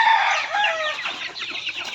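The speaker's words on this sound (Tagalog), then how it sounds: "Yan yung ating mga alagang manok" Pet chickens clucking close by, a short run of busy, overlapping clucks and calls with no voices.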